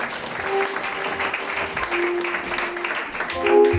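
A church congregation claps for Jesus during a service, a continuous wash of hands with a sustained voice or tones singing over it.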